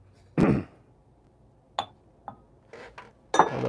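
Glasses clink and knock while someone rummages for one in a kitchen while making coffee, a few sharp scattered chinks spread over several seconds, close and fairly quiet.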